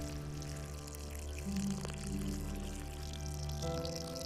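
Liquid poured steadily into a pot in Cooking Simulator, about 700 ml, a soft continuous trickle under a droning game hum, faint and even throughout.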